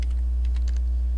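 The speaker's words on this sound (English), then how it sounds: "you can just start typing in the names of your students" Quick, light keystrokes on a computer keyboard tap out a short burst of typing over a steady low hum.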